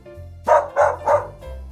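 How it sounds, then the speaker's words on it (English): Three quick, evenly spaced dog barks ring out close by, followed by a softer fourth. "Dog."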